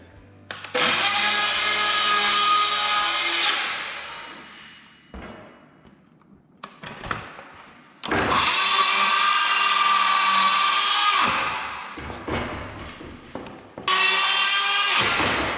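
A circular-blade power tool cuts wood baseboard trim in three loud, sustained whining bursts separated by short pauses with light handling knocks, close and alone.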